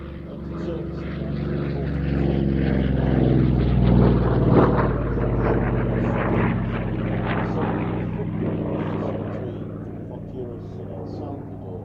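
A license-built Vought Corsair piston warplane flying at the Fly Navy airshow at Shuttleworth, a droning propeller engine swelling and fading as it passes, with a commentator talking over it.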